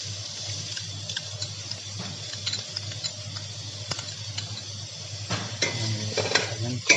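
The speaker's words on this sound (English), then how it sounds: "And again saute the onions." Chopped onions sauté in a pan with a soft, steady sizzle, punctuated by light stirring scrapes and small utensil clicks, quiet and close.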